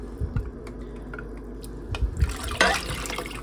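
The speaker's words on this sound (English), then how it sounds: "I'm going to add in a full can of water." A full can of water is poured into a vegetable soup pot of beef broth and tomato juice, giving a few drips and then a close, splashing gush near the end.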